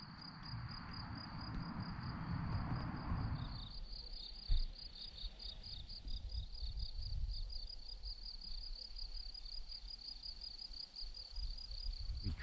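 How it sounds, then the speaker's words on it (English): Crickets sing in a steady, high-pitched continuous chorus outdoors, with a louder rumbling noise covering the first few seconds before fading to a quieter background. "You can hear the crickets singing."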